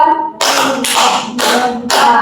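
Players in a group counseling clap game strike their hands together in four loud, crisp bursts, evenly spaced and close, with a short voice just before the first.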